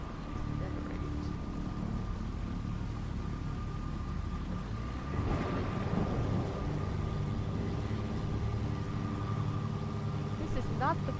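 Steady rain pours in a thunderstorm in the Jenny LeClue video game, with a low rolling rumble of thunder swelling midway and a voice speaking over the constant downpour.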